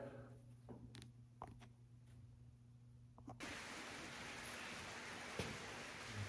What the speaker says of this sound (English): that's sleet coming down on the roof of the shop